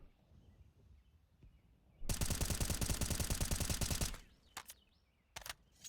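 A rapid burst of automatic gunfire in Counter-Strike on the Inferno map, about two seconds of dense, loud, evenly spaced shots, followed by a few short isolated bangs.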